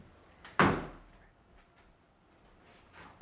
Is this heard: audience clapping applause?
no